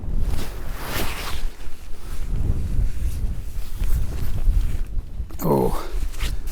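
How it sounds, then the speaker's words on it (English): Gusty wind buffeting the microphone at a freezing tent campsite, a continuous low rumble and roar outdoors with a brief voice near the end. "the wind's blowing directly into it"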